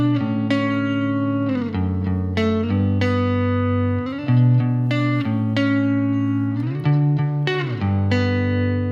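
Distorted electric guitar through Ableton Live 10 Pedal, EQ8, glue compressor, cabinet, amp and reverb plays sustained chords and notes with heavy effects, changing every second or so, loud and alone.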